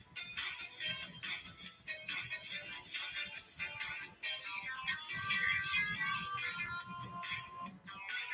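A mobile phone ringtone plays as a steady melodic electronic tune with repeating bright notes, continuing for several seconds over a faint background on a rainy midday at home; no one speaks.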